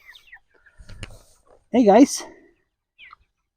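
Chickens on a small farm give a short, loud squawking cluck near the middle, with fainter rustling around it and a brief spoken greeting at the start.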